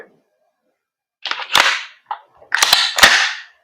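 A VFC BCMAIR MCMR 8.5 airsoft gas blowback rifle fires about five sharp, close shots in two quick bursts, each crack followed by a short hiss of gas and the clack of the bolt.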